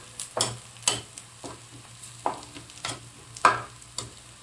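Pansit canton ingredients are sautéed in a pan, with intermittent scraping stir strokes roughly every half second over a faint, quiet sizzle.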